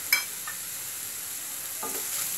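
Meat sauce with a little flour being stirred in a pan over medium heat. Light scraping strokes land near the start and near the end, over a soft, steady sizzle.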